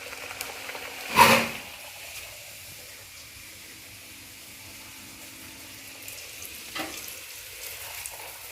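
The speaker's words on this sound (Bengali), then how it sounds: "লুচিগুলো ভেজে নিই, তাই না?" Luchi puris fry in hot oil with a steady, close sizzling hiss throughout. A single sharp knock or clatter breaks in early, and a fainter one comes near the end.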